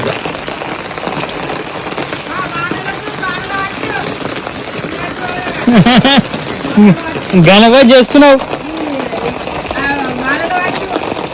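Heavy rain pours steadily on a Vinayaka Chavithi day, a constant hiss running throughout while people talk over it.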